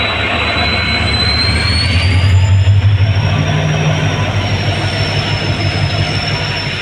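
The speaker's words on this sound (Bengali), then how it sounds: "ট্রেন কিন্তু দাঁড়িয়ে গেল" A train pulling into a railway station and coming to a stop, loud and close, with rumbling wagons, a long high wheel squeal and steady mechanical noise that eases off toward the end.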